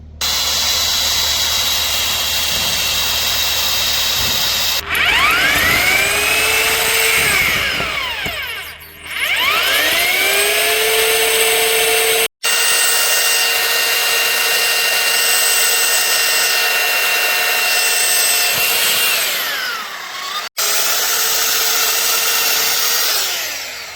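Drilling holes into a metal pit bike frame: a loud, close power drill whines continuously with pitch rising and dipping as the bit bites, broken by a few brief stops.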